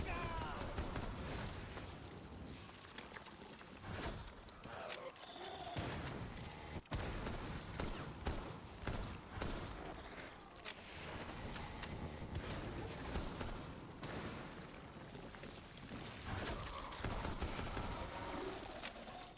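Gunfire in the video game Rainbow Six Extraction, with repeated bursts and shots over a continuous game soundscape while a person talks throughout.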